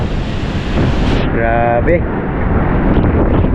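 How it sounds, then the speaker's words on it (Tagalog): Strong typhoon wind roars and buffets the microphone alongside crashing sea waves near a culvert, loud and steady throughout, with a brief spoken exclamation partway. "Lakas ng hangin."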